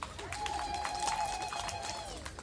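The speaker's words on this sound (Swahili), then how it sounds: "Hebu mpigeni makofi" Audience applause for the archbishop of Dar es Salaam at a church gathering, a steady, dense clapping from a crowd that holds at an even level throughout, with a sustained tone running under it.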